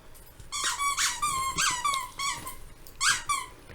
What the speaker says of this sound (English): Lily, my dog, is playing with her toy